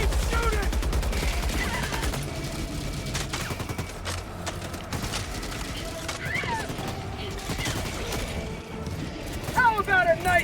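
Heavy machine gun fire in a sci-fi co-op shooter, rapid sustained bursts layered with other weapon noise and mechanical clatter, with voices talking over the shooting.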